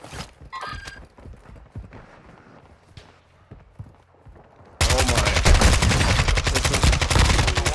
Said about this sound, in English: I hear him shooting.